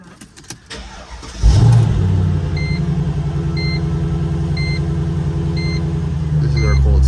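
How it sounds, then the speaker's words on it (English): Mercedes SLK55 in a showroom cold-starting: a brief starter crank, then the engine catches with a loud rev and settles into a steady, rumbling high idle, while dashboard chimes beep at regular intervals. "This is our cold start."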